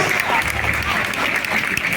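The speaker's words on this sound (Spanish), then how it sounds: "Fuerte aplauso para ellos." Audience at a street festival for San Francisco Javier applauds steadily throughout, a dense wash of clapping from the crowd with faint voices mixed in.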